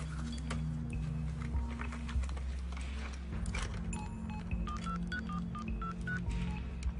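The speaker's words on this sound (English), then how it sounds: "I phoned her number." A telephone number is dialed by pressing keys, a quick series of short touch-tone beeps in an uneven rhythm over a low background hum, close and clear with no talking.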